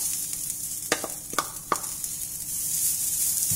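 Grated coconut fries in a pan for a Chettinad chicken curry, a steady close sizzle with a few sharp scraping stirs of a spoon cutting through, no voices.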